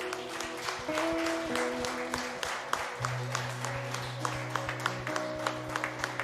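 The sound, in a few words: audience applauding in church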